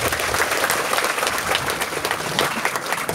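An audience at a parish youth gathering applauds loudly and continuously, dense close clapping filling the whole moment without talk.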